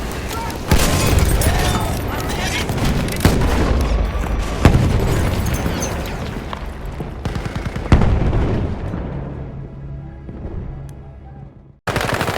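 Loud, dense battlefield din in Battlefield 2042 or Battlefield 1: rolling explosion booms layered with rapid gunfire that fades toward the end before a sudden loud burst returns.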